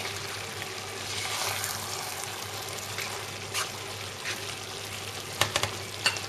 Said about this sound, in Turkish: Şöyle alt üst edecek kadar karıştırıyoruz